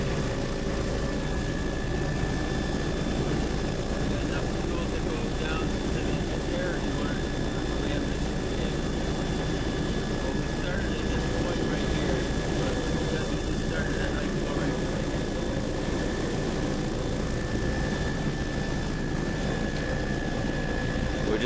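Low-flying aircraft noise during an aerial survey over a resort and shoreline at about 750 feet. A steady, loud engine and rotor drone fills the cabin throughout, and a voice talks over it.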